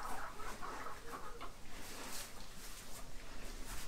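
Soft, scattered clucking from a few chickens, fairly faint and continuous, with light background noise.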